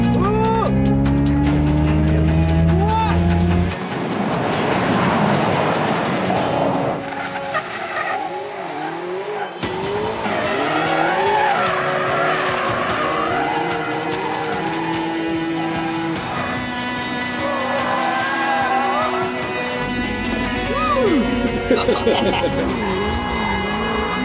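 A Hyundai IONIQ 5 N electric car on the Fuji Speedway track with a synthetic gasoline-like engine note that rises and falls through shifts, alongside tire squeal and skidding, loud and close.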